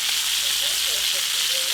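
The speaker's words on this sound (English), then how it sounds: "I just keep the vegetables away from the other thing and let them cook down." Vegetables and London broil steaks cooking in a pan, a steady, close sizzle and hiss of frying that stays even throughout with no pauses.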